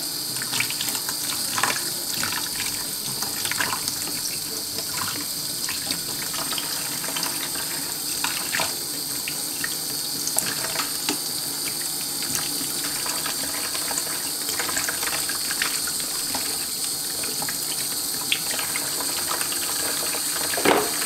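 A filter is rinsed under a running kitchen tap, making a steady gushing, splashing stream that goes on without a break, with small clinks now and then. No voices are heard.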